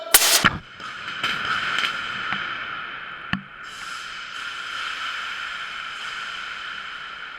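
Artillery pieces firing in order: one sharp, loud blast at the start, a fainter thump a few seconds later, and a lingering hiss and rumble between them.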